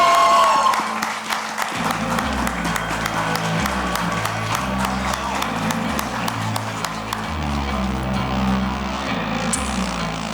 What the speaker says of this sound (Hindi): जोरदार तालियों से स्वागत कीजिए फरहान अख्तर